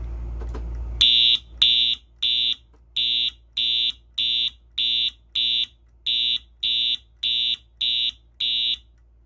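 A 1990s FCI fire alarm system sounds in march time, giving a loud, close electronic horn in short, evenly spaced pulses, roughly two per second. The pulses follow a brief initial burst, and no voices are heard.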